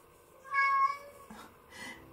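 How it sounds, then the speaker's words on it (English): A house cat meows once, clear and close, a single drawn-out call in a quiet indoor room during a crochet session, followed by a softer trailing sound. "and that's my cat."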